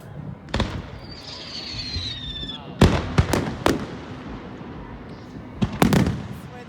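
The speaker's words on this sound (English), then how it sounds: "We're gonna stop talking so we can enjoy the fireworks." Fourth of July fireworks burst outdoors: a rising whistle, then a string of sharp, loud bangs and crackles at irregular intervals, with voices faint in the background.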